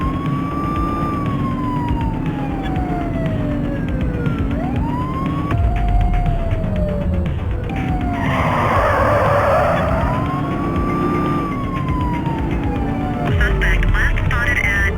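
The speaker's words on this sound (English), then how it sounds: "Looks like we're in for a police pursuit." Police car sirens wailing in a pursuit in the open-world police game The Precinct, with several rising and falling siren tones sweeping loudly over a driving car engine, no talk audible.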